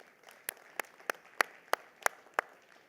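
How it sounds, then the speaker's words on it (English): Slow, sparse clapping at a rail leadership conference session, about eight sharp separate claps spaced roughly evenly, fairly close and clear over a quiet room. "A round of applause for her, please."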